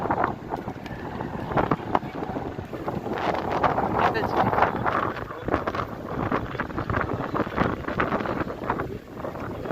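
Strong wind gusts roar steadily across an open-air fair ground at the Kharsundi yatra, with loud buffeting throughout and faint voices underneath.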